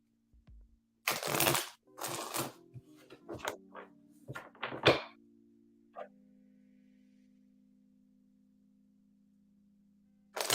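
Tarot cards being shuffled by hand in a quiet room, a few bursts of riffling and sliding card sounds in quick succession, then a low steady hum with silence.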